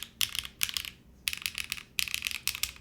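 Keys clatter on a Graystudio FRL 1800 mechanical keyboard in quick bursts of close, crisp clacks separated by brief pauses, each burst a rapid run of sharp strikes.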